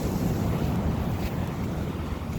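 Wind roars across the microphone at Scraggy Beach, a steady heavy rumble with waves washing faintly underneath and no voices.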